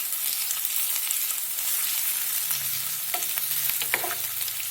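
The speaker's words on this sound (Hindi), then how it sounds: "उसमें अदरक लहसुन और हरी मिर्च क्रश करके लिए वो डालेंगे।" Onion, crushed ginger, garlic, green chili and curry leaves fry in hot oil for a potato vada rassa, giving a steady, close, loud sizzle with a few stirring scrapes toward the end.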